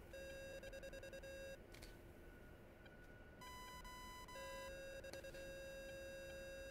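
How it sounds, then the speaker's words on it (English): Cockpit warning tone of an A-10C jet pulling a tight turn in the DCS flight simulator, a steady electronic beeping that pauses, then shifts pitch and resumes, heard alone and fairly faint. "if I start pulling, you'll hear the plane beep."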